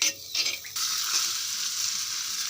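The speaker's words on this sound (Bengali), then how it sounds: "আমার আলু ভাজাটা হয়ে গেছে দেখেন সাথে ডিম দিয়ে দিছি" Potatoes and egg fry in a pan for singara filling, with a bright, steady sizzle that starts after a few brief stirring clatters and then continues evenly up close.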